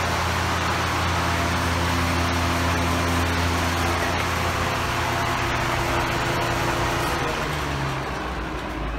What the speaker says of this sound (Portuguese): Desculpa o barulho do ventilador.